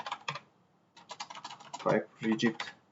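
Quick bursts of keystrokes on a computer keyboard while a search term is typed into the Unity editor, close and clear, with a short stretch of speech partway through.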